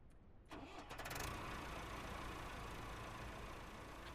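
A car engine in the video game Ranch Simulator cranks and catches, then settles into a steady, fairly loud idle that runs on alone with no talk.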